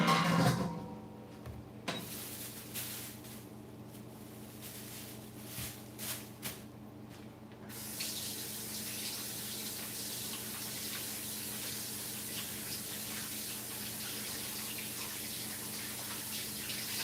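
Water running steadily from a kitchen tap during hand washing while making dough, a loud continuous gush beginning partway through after quieter handling noises, close and unbroken to the end.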